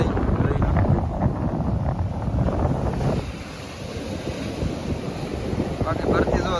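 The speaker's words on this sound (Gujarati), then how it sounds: "અત્યારે પવન પણ બહુ આવે છે" Strong wind gusting at the seashore at high tide, a loud broadband roar mixed with surf that fills the whole stretch, easing slightly partway through before building again.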